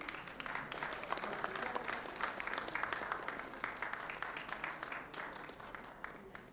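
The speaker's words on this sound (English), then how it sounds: "A huge round of applause, please." An audience at an actuarial conference gives a sustained round of applause, dense overlapping claps from a large crowd in a hall that swell and then slowly fade.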